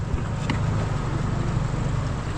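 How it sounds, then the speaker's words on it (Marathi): Fishing boat engine running during net hauling for barramundi, a steady low droning rumble that stays even and fairly close throughout, with no voices. "इंजिन स्टार्ट केलं आपण"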